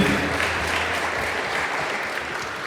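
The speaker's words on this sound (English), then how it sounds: "let's have one more big round of applause for Kevin and Mom celebrating their special" Wedding guests applaud a couple's special dance at the reception, a steady, dense wash of clapping filling the room at moderate loudness, with no talking over it.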